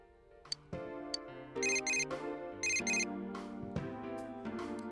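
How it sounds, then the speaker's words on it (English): A cell phone rings in the video game Persona 4 Golden, playing a bright electronic ringtone melody with repeating chime-like bursts over a steady tonal backing. There is no talking. "Naoto's cell phone is ringing."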